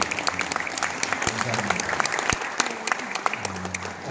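A church congregation claps in welcome, sustained lively applause filling the sanctuary, with some voices murmuring underneath.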